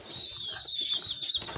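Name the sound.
young birds calling during feeding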